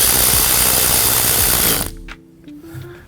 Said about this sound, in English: slide our terminal ring over that bolt there, and then tighten it back down like so